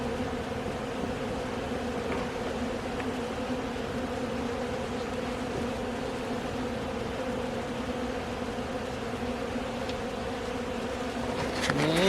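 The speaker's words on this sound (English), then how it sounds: "We got bees right here and there, and they're tapering off." Honey bees hum steadily around an open hive during an inspection, a close, continuous buzzing drone that holds evenly throughout with a brief louder swell at the very end.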